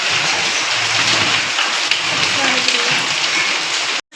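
Heavy hailstorm with pouring rain makes a dense, loud, continuous roar of drops and pellets striking surfaces close by, with a low rumble beneath, cutting off abruptly at the end.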